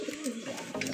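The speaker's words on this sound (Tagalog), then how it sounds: "Uy, marami pang kalapati dun oh." Racing pigeons coo softly in a steady, low murmur at a training race loft in Santo Tomas, Batangas, with faint outdoor background noise and no clear speech.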